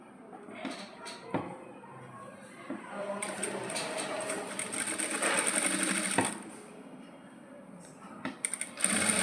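A sewing machine stitches the shoulder seam of a coat in a steady close whir with brief starts and stops, alongside light handling clicks and some talk.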